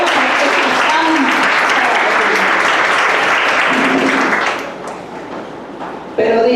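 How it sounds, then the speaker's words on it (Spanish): Congregation applause during a church sermon, loud and sustained for about four seconds before dropping to a softer murmur, then a brief renewed burst at the end, with voices mixed into the clapping. "Dele palmas al Señor"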